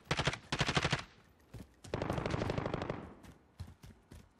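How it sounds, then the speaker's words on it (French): Rapid automatic gunfire from the Call of Duty Modern Warfare video game, with several close, loud bursts of shots separated by short pauses. "On tire."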